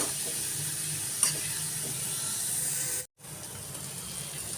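Green chillies fry in hot oil, giving a steady close sizzle throughout, broken by one brief dropout near the end.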